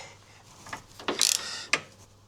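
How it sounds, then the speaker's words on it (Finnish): A ratchet tightens a Torx bolt during a starter motor replacement on a Mercedes W163 400 CDI, giving a few close, sharp mechanical clicks and a brief rasping burst in an otherwise quiet garage. "Muistetaan vaan kiristää tuolta vielä yksi torksi"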